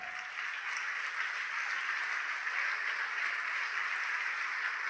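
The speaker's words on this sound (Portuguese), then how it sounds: "Vamos aplaudir mais ao nome de Jesus." A church congregation applauds steadily through the whole stretch, a dense, even wash of clapping with no break and no voices standing out.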